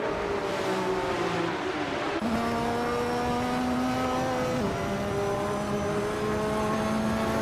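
Racing engines in a video game race, including a 1984 Rondo M 482, drone steadily and loudly throughout, with pitch shifting as gears change and revs rise, several engine tones layered together without any talk.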